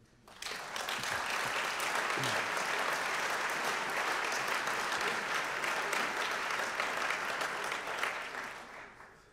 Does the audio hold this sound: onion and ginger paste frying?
no